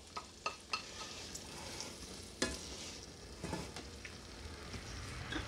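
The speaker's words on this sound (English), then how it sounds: "Put this on medium heat. Throw in our peppers." Peppers sizzle in a pan over medium heat with a soft, steady frying hiss, punctuated by several sharp stirring knocks and scrapes near the start and middle.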